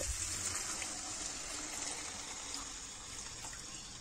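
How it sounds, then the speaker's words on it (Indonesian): Coconut milk poured into a pan of spice paste sautéed until slightly scorched at the bottom, giving a steady, close liquid gushing and sizzling wash that runs evenly for several seconds with no voices. "Masukkan santan."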